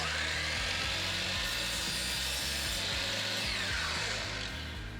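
Power saw cutting carved wooden moulding trim for a mirror frame, a loud continuous buzzing whine with rough grinding texture that holds steady throughout, with no talking.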